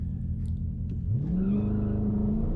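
A Dodge Challenger Scatpack launches at a drag strip, the engine climbing from a low burble into a loud, sustained rising roar as the rear wheels spin, heard from a short distance.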